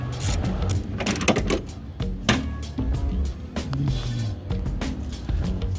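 Hand ratchet with a swivel working transmission mount bolts on a Mazdaspeed 6, giving close, busy ratcheting clicks and metallic clatter over a steady background rumble, without talk.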